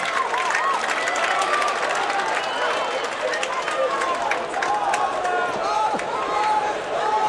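Dense crowd noise at the NCAA wrestling championships in Detroit, a steady roar of cheering and shouting with scattered clapping, continuous and loud throughout, with a commentator talking over it.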